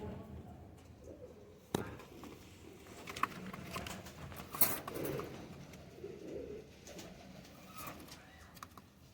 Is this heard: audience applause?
no